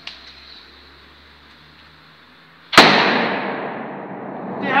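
A sharp, loud bang from a firecracker erupts after a quiet hiss, followed by a long booming echo that slowly decays in an enclosed tunnel.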